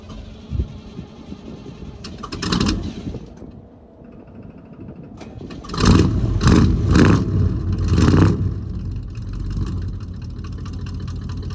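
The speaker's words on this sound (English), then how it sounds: "Such a cool sounding car." A car engine cranks and fires up, then revs in several loud bursts before settling into a steady idle, heard alone up close with no talking.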